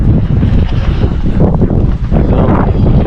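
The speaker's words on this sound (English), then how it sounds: "it's too windy" Strong wind buffets the microphone continuously outdoors at a cabin build site, a loud steady roar with rumbling gusts and rustling trees.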